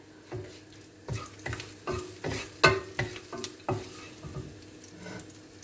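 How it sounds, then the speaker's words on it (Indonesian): Onions are stir-fried in a pan with a spatula, giving a soft sizzle broken by a series of rhythmic scraping strokes about every half second, fairly close and quiet, with no talk. "Kita tumis sampai bawang bombaynya layu."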